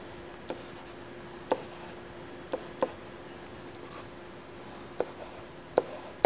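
Chalk or marker strokes on a lecture board as a probability density graph is drawn: sparse, quiet taps and short scrapes spaced irregularly over a steady low room hum, with no voice.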